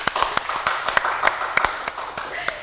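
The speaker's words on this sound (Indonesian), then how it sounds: "boleh tepuk tangan dulu teman-teman." Scattered hand claps from a small group, sharp and irregular, continuing for a few seconds with light background noise.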